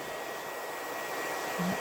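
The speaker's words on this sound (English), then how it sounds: "I'm just using this little hair dryer that we keep in the guest bath." A small hair dryer blows on a digital print transfer on fabric with a steady, airy whoosh, quiet and continuous, with a brief low hum near the end.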